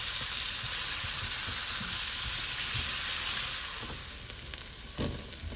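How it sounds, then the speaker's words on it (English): Vegan steak strips sizzle and fry steadily in a hot pan, with soft stirring scrapes scattered through; the sizzle stays loud and dense, then eases slightly near the end. "Stir it around, and we're gonna let these cook down until they're nice and golden."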